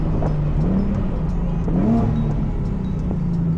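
A supercar engine revs close by in paddle-shift mode, its low steady drone rising and falling in pitch through quick gear changes, with no talk over it.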